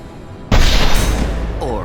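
A sudden loud blast as crates of unstable materials explode in the Mass Effect 2 video game, with a sharp onset and a rumbling, crackling tail.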